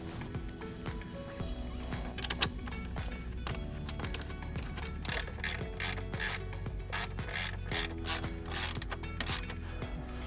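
A hand ratchet tightens 8mm bolts on an Audi B9 A4/S4, quiet rapid clicking in repeated bursts with short pauses between strokes, heard close and fairly soft.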